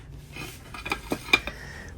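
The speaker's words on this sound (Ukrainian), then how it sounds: "Дві тарілки. Тут у нас сірень узор. Це у нас фарфор" Antique imperial porcelain plates with a lilac pattern handled in an antique shop, a few light clinks and ceramic knocks, close and quiet, spaced irregularly over a soft background.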